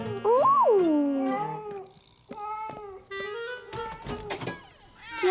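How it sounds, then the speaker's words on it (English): A cat gives a loud drawn-out meow up close, followed by shorter meows mixed with a child's and an adult's voices talking indoors. "Silly cat."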